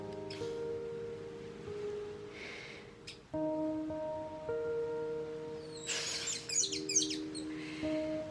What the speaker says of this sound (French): tu vois les oiseaux qui chantent et tout